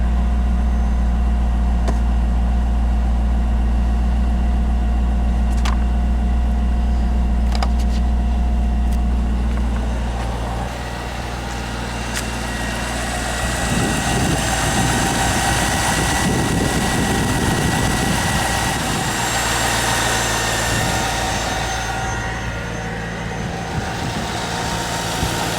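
A 1998 Corvette C5 V8, just fitted with a new harmonic balancer, fires up and settles into a steady idle. A loud, continuous low rumble runs throughout, with a shift in tone partway through.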